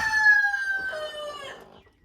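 Broody hen sitting on a clutch of eggs, giving a single drawn-out vocal call that trails off, close and fairly clear with no talking.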